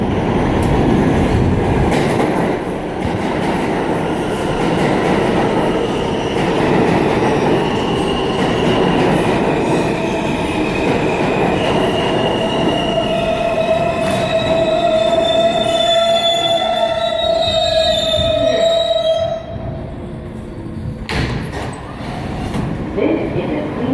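A Queens-bound NYC subway E train pulls into the 5th Avenue–53rd Street station with loud rumbling and long, rising wheel squeals. It slows to a stop and the noise drops near the end, while voices talk faintly on the platform.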